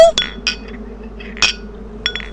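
Ice cubes from a drinks dispenser drop into a glass with a few bright, separate clinks spread over a couple of seconds, close and clear.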